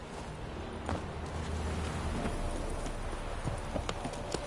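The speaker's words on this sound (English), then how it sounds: "Move it! That's it, Roach. Whoa there, Roach" Horse hooves clip-clopping steadily through the whole stretch in the video game Witcher 3, a continuous walking rhythm of hoof strikes over a faint ambient background, with no talk.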